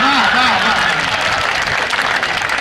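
An audience at a comedy poetry stage show applauds in a loud, continuous wash of clapping, with a voice speaking over it near the start.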